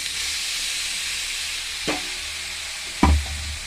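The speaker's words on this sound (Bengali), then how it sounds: "ঘিয়ের ভিতরে গাজরটা ভালো করে ভেজে নেব" Carrot fries in melted ghee, giving a steady soft sizzle and hiss. Two brief stirring scrapes cut through it near the end, and no one speaks.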